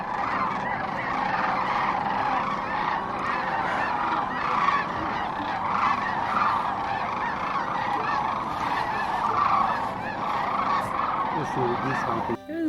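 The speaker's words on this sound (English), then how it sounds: "Oh yeah, snow geese and sandhill cranes." A dense chorus of snow geese honking continuously, with sandhill cranes calling among the flock in Nebraska, a loud overlapping clamor of many birds at once.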